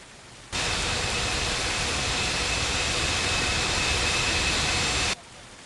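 A jet takes off in the air traffic control game Unmatched Air Traffic Control, a loud, steady roaring rush that starts abruptly, holds for about four and a half seconds, then cuts off sharply.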